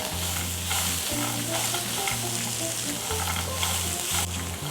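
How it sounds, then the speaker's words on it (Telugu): Garlic and peanuts frying in a pan, a loud steady sizzle close by, with a spoon scraping through at regular intervals as they are stirred, and nobody talking. "ఒక్క నిమిషం వేగనివ్వాలి వెల్లుల్లిపాయల్ని"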